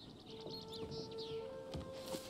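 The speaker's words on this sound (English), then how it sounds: "I'm listening to the birds right now." Songbirds chirp and trill in the ambient soundscape of the video game Palia, with quick high calls scattered over a soft steady hum and a low background bed.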